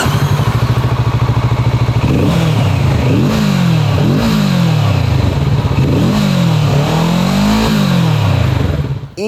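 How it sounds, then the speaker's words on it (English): Kawasaki Z650RS parallel twin with a 180-degree crank, revved repeatedly from a steady idle in a series of rising and falling blips, loud and close with no talking. "it's not the best sounding engine either in terms of that 180-degree crank."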